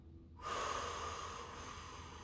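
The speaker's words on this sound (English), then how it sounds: "Letting the air come out our mouth" Someone breathes out through the mouth in a seated chair-yoga exercise, one long, soft, airy exhale that starts abruptly and fades slowly.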